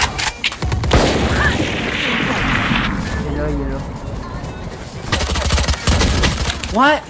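Gunfire in the Valorant video game, bursts of rapid shots and impacts mixed with game sounds, heard under excited players talking over voice chat.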